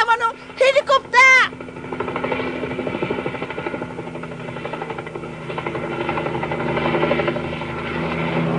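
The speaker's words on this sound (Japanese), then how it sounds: "あれはランカー様のヘリコプター" A helicopter in a Japanese puppet drama gives a steady, whirring rotor drone that swells and fades slightly, following a brief burst of voices at the start.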